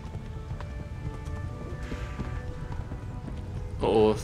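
Rhythmic hoofbeats of a galloping horse patter steadily under faint background sounds, ending with a brief louder burst, in the video game Kingdom Come: Deliverance.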